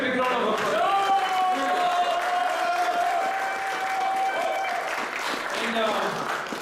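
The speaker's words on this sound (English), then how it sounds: "Let's give them a big round of applause." Crowd applause at a cricket league final, continuous clapping with a steady tone ringing over it and voices audible underneath.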